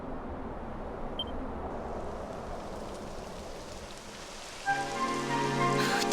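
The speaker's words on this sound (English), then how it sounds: "It would have to go and start raining, wouldn't it?" Steady rain pattering on surfaces in Dragon Quest XI, a continuous soft hiss throughout; near the end a brighter tonal layer of music or effects rises over it.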